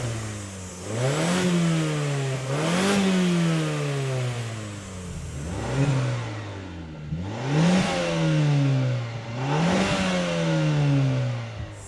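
A 2025 Mazda CX-30's engine and exhaust rev up and drop back several times in a row, each rising pitch sweep followed by a fall, heard close and alone with no talk.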